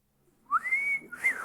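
Someone whistles a short rising, sustained tune, clear and close, in a Clover Whistling Chef advertisement, with the melody alone and no speech.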